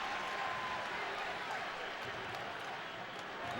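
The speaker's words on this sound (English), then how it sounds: "Great crowd in Charlotte, North Carolina today. They are really into it." A stadium crowd roars at a USA vs Senegal soccer match in Charlotte, North Carolina, as a steady, even wall of cheering and applause that holds at the same level throughout.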